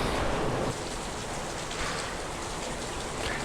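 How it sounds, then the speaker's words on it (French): Heavy thunderstorm rain pours in a dense, constant roar at an old convent, close and loud without pause. "il pleut énormément, je sais pas quoi faire"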